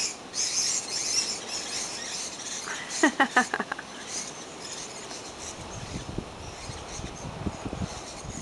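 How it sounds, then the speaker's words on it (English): Birds at Rainbow Jungle bird park in Kalbarri, Australia, give faint chirps and a short burst of rapid high calls amid light insect-like buzzing, with a voice speaking softly near the end. "rainbow jungle in Kalbarri, which is basically a bird park."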